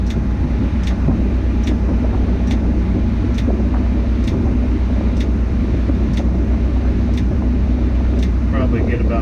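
Crane beginning a lift to take a load off a truck, a steady loud diesel engine rumble holding throughout with faint regular ticks over it, no distinct change in load.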